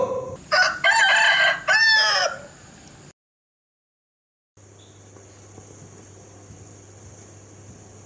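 A rooster crows once loud and close, a long multi-part call over a faint rural background, followed by silence and then a low steady ambient hum.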